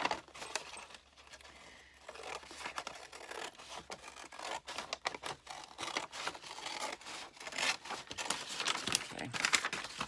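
Paper is scrunched and crinkled by hand while making a faux leather journal cover, with dense, irregular crackling that builds louder toward the end and plays alone without talk.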